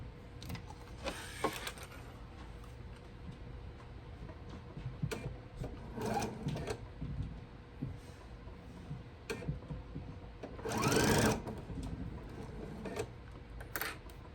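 A sewing machine stitches a quarter-inch seam down a quilt block in short, quiet bursts of rapid mechanical whirring, separated by pauses.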